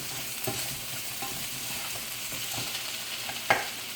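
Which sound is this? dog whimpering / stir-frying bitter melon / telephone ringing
stir-frying bitter melon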